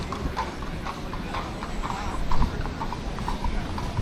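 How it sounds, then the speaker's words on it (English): Horse hooves from a tourist carriage clop over the pavement in Salzburg, Austria, a close, steady rhythmic patter of hoofbeats under general street bustle for about four seconds. "They also seem to do the horse-drawn carriage tourism thing there."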